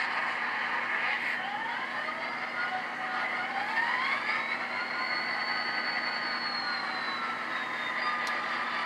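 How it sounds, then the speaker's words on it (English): HO scale DCC model diesel locomotive starting its engine, a steady synthesized rumble and whine that rises in pitch as it spins up, continuous and fairly faint, with no voices. "So we're giving it a command to start the engine."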